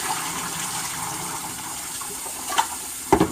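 Hot water runs from a tap over raw ribs being washed with vinegar, a steady gushing splash with a few brief louder splatters near the end and no talking.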